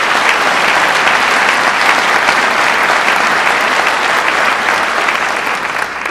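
Loud, steady applause from a packed audience at a cancer institute recognition event honors Congressman Higgins, a dense continuous roar of clapping that eases off only near the end.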